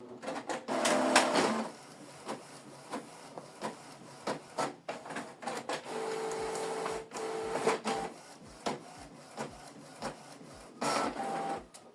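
A Canon Pixma G3590 inkjet printer runs a double-sided color job in close, steady mechanical bursts: clicks, whirring paper feed and repeated print-head passes, with no voices.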